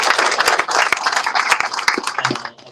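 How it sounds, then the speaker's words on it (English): Audience applause at a graduation ceremony for a human services career support program, a dense wash of clapping that fades out near the end with a voice briefly audible. "please give them a round of applause as well"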